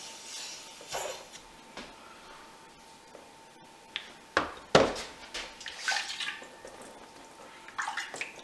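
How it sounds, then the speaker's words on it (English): Water is splashed onto a 1000-grit Japanese waterstone for sharpening a Fujimoto honesuki knife, giving quiet scattered drips and splashes close by, with a few louder wet taps in the middle. "Get this a little bit wet."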